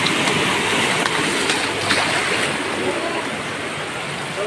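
Flood water flowing through a street, a loud steady rushing wash with faint splashes, churned up as vehicles pass through.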